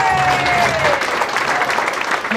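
Loud, steady applause from the audience at a 2015 TownePlace Marriott hotel opening in Belleville, filling the room for a couple of seconds, with a faint falling whistle-like tone early on.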